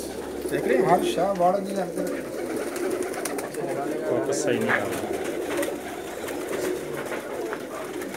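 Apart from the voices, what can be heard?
pigeons cooing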